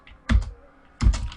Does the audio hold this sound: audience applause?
no